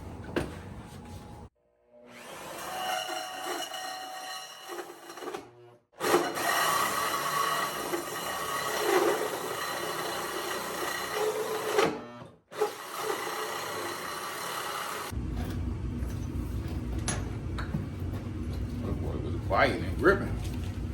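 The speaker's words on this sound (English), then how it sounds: "Now I'm gonna go ahead and drill out that 4-inch hole." A power drill bores a 4-inch hole, grinding steadily through material in long, loud bursts with brief pauses between, a rough rasping whine close by, with some talk near the end.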